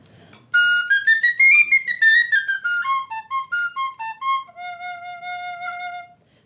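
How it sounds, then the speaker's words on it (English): A penny whistle plays a bright, clear melody that rises and falls, then holds a few steady notes before stopping, close and alone. "This is a penny whistle."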